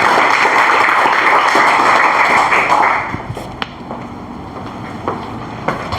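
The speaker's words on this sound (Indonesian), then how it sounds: "tepuk tangan buat kita semua untuk semangat hari ini" A class of students in a web programming lesson clapping together, a loud dense burst of applause that cuts off halfway, leaving sparse taps and thuds in a quieter room.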